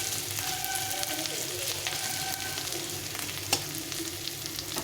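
Ingredients for chickpea chaat fry gently over lowered heat, a steady close sizzle with faint stirring scrapes and one sharp clink, no voices.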